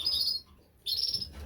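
Gouldian finches in an outdoor aviary give two short bursts of high, thin chirping separated by a brief pause, close and clear.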